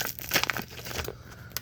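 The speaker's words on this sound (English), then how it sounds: "take a knife, you just cut a little slit" A knife slits a plastic bag holding a rack of ribs on a cookie sheet: a quick, close crinkle and tear of plastic, brief and fairly quiet, with no talking.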